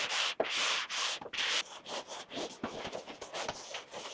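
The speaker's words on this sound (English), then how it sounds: "hit it with a little light sand" Light hand sanding of a primed ceiling: several long, breathy scratchy strokes followed by quicker, shorter rubbing passes, close and fairly quiet, with no talking.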